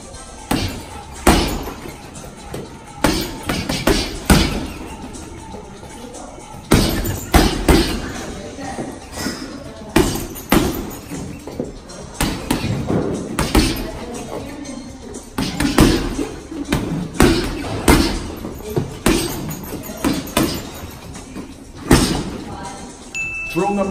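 Repeated hard thuds and smacks of boxing body-shot punches landing on a heavy bag, coming in quick irregular bursts with brief pauses, close and loud.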